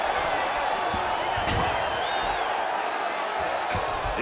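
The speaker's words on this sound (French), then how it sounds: "Le public applaudit les combattantes après ce bel échange en grappling." Crowd at a women's MMA bout applauding the fighters after a grappling exchange, a dense wash of clapping and cheering with some thuds, steady throughout as voices talk over it.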